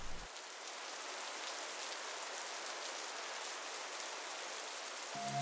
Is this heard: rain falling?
yes